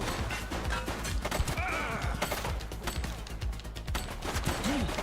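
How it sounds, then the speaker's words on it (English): Gunfire in the police game The Precinct: rapid volleys of sharp cracks and bursts pile up in a chaotic firefight, loud and continuous, with impacts and clatter mixed in. "He's shooting!"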